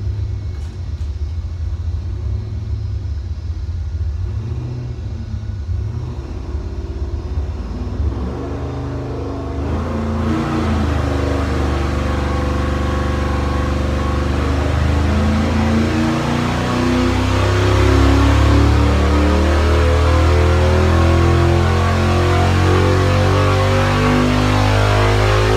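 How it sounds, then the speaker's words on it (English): A junkyard LS V8, the 4.8 or 5.3 liter in stock trim, makes a wide-open-throttle dyno pull, starting from a rough idle rumble and then climbing into a loud, sustained rising roar heard close up. "We'll see if it'll take a wide open throttle pull."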